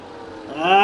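Ferrari race car engine in a sim racing game at Qatar, a short harmonic engine note rising in pitch and loudness as it accelerates, with commentary speech over it.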